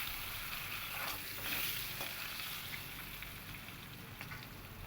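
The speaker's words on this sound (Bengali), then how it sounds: "এবার আমি ওই কড়াইতেই টুকরো করে কেটে রাখা আলুগুলোকে প্রথমে আমি লাল লাল করে ভাজা করে নেব।" Cut potato pieces fry in a kadai, browning in hot oil with a steady, dense sizzle and crackle that holds at close range throughout, with no voices.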